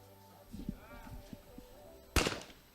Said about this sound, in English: He now has to shoot the reverse double on 4.